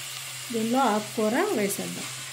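Ponnaganti leafy greens frying with eggs in a pan, a soft steady sizzle running underneath a few louder wavering tonal sounds.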